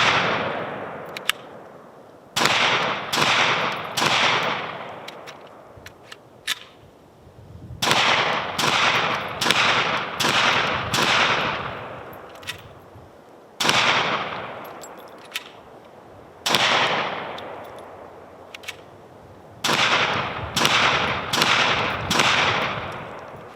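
A Kel-Tec PMR30 pistol with a lubed, modified magazine fires a series of loud, sharp outdoor gunshots, sometimes singly and sometimes in quick bursts of two to four, with pauses between groups and echoing decays after each crack.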